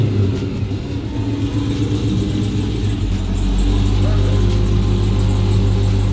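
A 1969 Dodge Charger restomod with a Hellcat engine rumbles to life partway through and settles into a loud, deep, steady idle close by, with faint talk early on.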